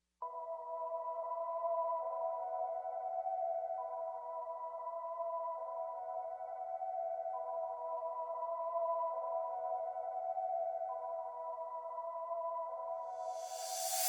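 A soft ambient synth pad for a flute-sample beat holds a quiet, steady sustained chord throughout, with no other instruments.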